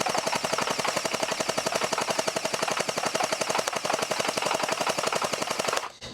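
Rapid-fire bursts from an X-Shot Hyper Glow NightStrike gel blaster, a steady machine-gun-like stream of sharp, close pops lasting about six seconds before cutting off abruptly.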